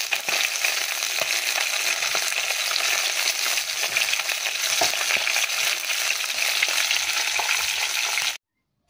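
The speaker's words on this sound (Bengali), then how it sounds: "এখানে হচ্ছে মাছ ভাজা করতে" Fish sizzles in hot oil in a home kitchen pan, a steady, dense crackle and spatter that stays loud and unbroken for about eight seconds, then cuts off abruptly.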